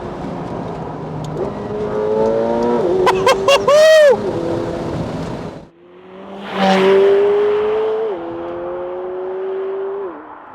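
A McLaren 720S Spider supercar engine revs hard, climbing through gears with a loud, rising roar, briefly cuts out, then surges again into a steady high-pitched drone.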